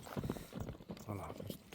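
A horse runs with quick, rhythmic clip-clop hoofbeats, heard under a voice talking.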